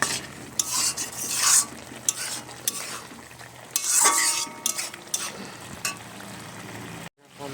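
Helencha greens are stirred in a frying pan over a low sizzle, with repeated scraping strokes of the utensil against the pan in uneven bursts until the sound cuts off near the end.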